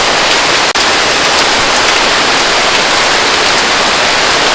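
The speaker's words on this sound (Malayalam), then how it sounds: "ഇപ്പോൾ ഇവിടെ നല്ല മഴയാണ് കേട്ടോ" Heavy monsoon rain in Kerala pours steadily, a dense, loud hiss that fills the whole scene without a break.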